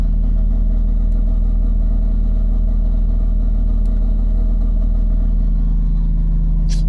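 A Toyota 1JZ-GTE engine swapped into a BMW E46 runs steadily at a loud, close idle during a backyard build's first start, with a constant low drone and no clear revs.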